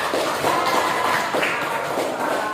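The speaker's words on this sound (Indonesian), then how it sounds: "Kita beri tepuk tangan untuk kelompok Safa" A classroom group applauding a student team named Safa, with a short, steady patter of many hands clapping at moderate volume and no talking.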